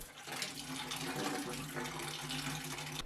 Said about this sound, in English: There was actually quite a bit of water to drain, so much that I was having doubts that the water was shut off.